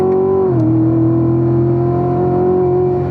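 A race car engine at Spring Mountain Motor Resort in Pahrump, Nevada climbs steadily in pitch as the driver gets back on the throttle and shifts into fourth, a loud, close, continuous drone with no talking over it.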